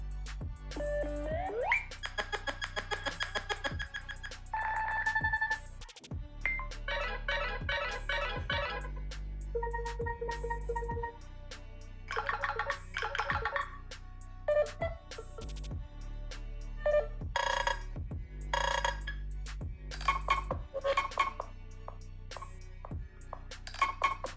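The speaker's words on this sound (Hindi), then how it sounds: "तो इस तरह से आपको 10 रिंगटोन मिलने वाली है।" Nothing Phone 4a ringtones play one after another: a string of short, clear electronic melodies and chiming tone patterns, each distinct, separated by brief gaps, with no talk.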